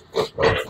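Healthy young pigs on a farm, about 40 days old, giving two or three short nasal grunts close by, with no voices over them.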